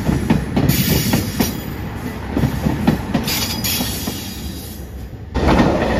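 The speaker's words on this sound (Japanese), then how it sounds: "黄色いアンパンマン機動車。" A yellow Anpanman limited express diesel railcar passes close by with a loud, steady rumble, rhythmic wheel clatter over the rails and a high metallic hiss throughout.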